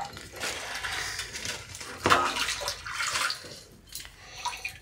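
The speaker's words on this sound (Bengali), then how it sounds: "হাত দিয়ে পা দিয়ে এমন ভাবে ছিটাবে সব ঘর টর ছড়িয়ে দে একদম জল দিয়ে" A baby kicks and slaps at bathwater with hands and feet during an indoor bath, giving a run of quick, close splashes and sloshes with a few sharper slaps.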